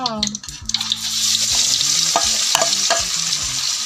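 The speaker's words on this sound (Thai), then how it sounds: "แล้วก็ทอดกระเทียมสักพักนึงนะคะ" Garlic sizzles steadily in hot oil as it fries for frog fried with garlic, with a few scraping stirs and utensil knocks near the start and some sharp clicks later.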